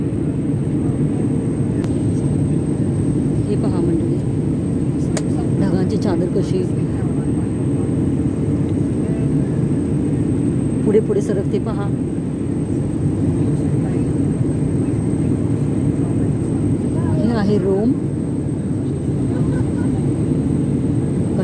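Steady, loud airplane cabin drone as a passenger plane circles over Rome before landing, with a constant engine rumble and faint voices in the background.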